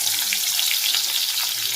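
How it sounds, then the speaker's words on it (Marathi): Green chilies and onion hit hot oil in a kadhai for tempering, giving a steady, close, hissing sizzle with fine crackles throughout. "आता आपण फोडणीसाठी मिरची आणि कांदा घालायचा"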